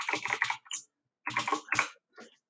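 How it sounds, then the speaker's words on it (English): Typing a command on a computer keyboard: two short clusters of quick, close keystroke clicks separated by a brief pause in a quiet room. "I'm going to type in game start."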